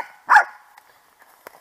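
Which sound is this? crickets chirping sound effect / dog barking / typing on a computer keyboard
dog barking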